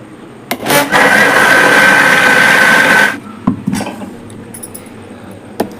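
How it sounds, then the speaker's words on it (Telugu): A kitchen blender grinds jackfruit with milk in a loud, steady whir lasting about two seconds after a brief start-up, then cuts off, followed by a few knocks and clatters. "సో ఈ పాలు పోసేసి గ్రైండ్ చేసుకుంటున్నాను"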